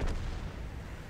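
A single muffled, booming gunshot burst comes from a video game, fairly faint and brief with a short decaying rumble.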